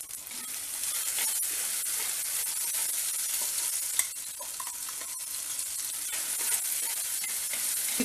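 Ground balloon vine greens paste sautés in a pan with a dense, continuous hissing sizzle that stays steady throughout, broken only by faint stirring clicks, and no one speaks.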